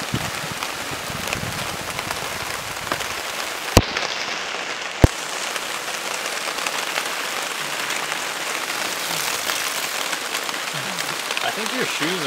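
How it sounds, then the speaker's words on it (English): Dense, steady heavy rain pours throughout, broadband and close, with a couple of sharp knocks partway through. "Exactly, it's raining. It's raining heavy."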